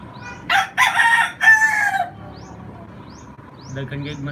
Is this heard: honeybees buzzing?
no